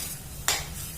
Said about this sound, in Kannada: ಮುಲ್ಲಂಗಿ ಹಸಿ ವಾಸನೆ ಹೋಗೋ ತನಕ ಹುರ್ಕೊಂಡಿದ್ದೀನಿ.